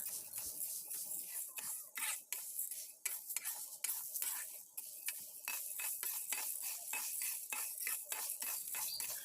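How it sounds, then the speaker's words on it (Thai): Mung beans dry-roasting in a pan over medium-high heat while being stirred, a quiet, continuous dry rustle and gritty scraping with small clicks and rattles, no talking. "เดี๋ยวเราจะใช้ไฟกลางค่อนแรงในการคั่วประมาณ 5 นาทีเพื่อให้ถั่วของเราแห้งนะคะ"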